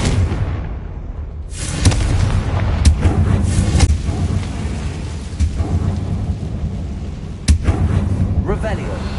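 Loud Confringo fire-spell blasts in the Hogwarts Legacy video game, several sharp booming bursts at about 2, 3, 4 and 7.5 seconds over a dense rumbling battle background.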